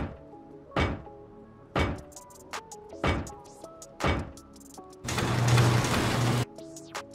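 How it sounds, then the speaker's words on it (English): Garage doors being placed while building a base in the video game Rust give a series of about five loud, hollow thunks spaced roughly a second apart, followed by a longer burst of noisy mechanical rattle. "you're going to have to place down all your garage doors."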